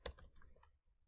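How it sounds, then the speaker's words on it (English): Computer keyboard keys tapped in a short burst while entering an email and password, a few close clicks that fade into quiet. "type in your email, type in your password"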